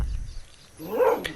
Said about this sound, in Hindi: बाहर गलियों में आवारा कुत्तों का शोर